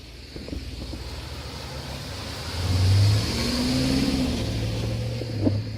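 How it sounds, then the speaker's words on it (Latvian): A car rolls along a street in Jūrmala, Latvia, its engine growing louder as it nears and passes close by, then easing off, over a low background hum. "Un tur ir vēl viena mašīna."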